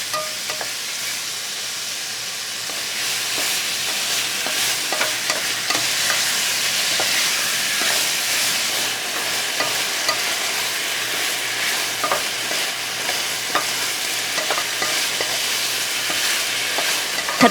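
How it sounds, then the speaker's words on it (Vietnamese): Marinated pork stir-frying in a pan over medium heat, a steady dense sizzle with scraping stirs running throughout, close and fairly loud with no talking. "tiếp tục cho thịt đã ướp vào. Xào với lửa trung bình nha các bạn"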